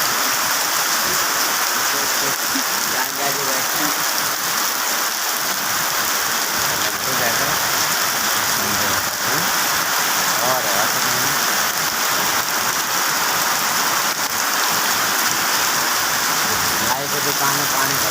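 Heavy rain pours steadily outside a small shop, a dense continuous hiss and patter on surfaces that stays loud and unbroken throughout.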